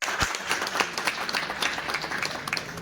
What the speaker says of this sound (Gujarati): આપણે જોરદાર તાળીઓથી